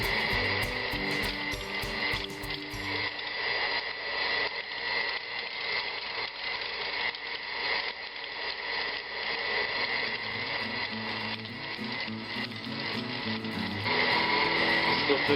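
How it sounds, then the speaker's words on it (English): Electric meat grinder running steadily as beef pieces are fed through for hamburgers, a continuous close mechanical whir with grinding and rattling that shifts in tone as the load changes, with no voices. "So I'm going to turn on my machine real quick and start feeding it in one piece at a time."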